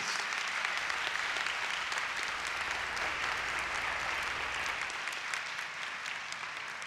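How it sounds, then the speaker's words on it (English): Audience at a student academic excellence awards ceremony applauding, a dense, even wash of many hands clapping that continues steadily for about seven seconds. "please give them a round of applause, please."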